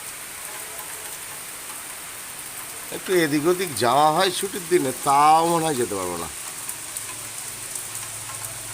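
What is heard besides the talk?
rain falling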